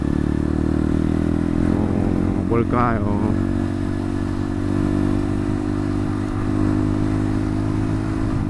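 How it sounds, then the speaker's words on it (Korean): A 125cc-class motorcycle on a road gives a steady low engine drone with a brief whining rise as it passes near, while someone speaks over it. "처음 보는 오토바이인데"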